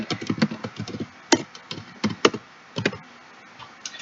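Keys tapped on a computer keyboard in bursts of quick clicks with short pauses between, close and fairly loud, no talking.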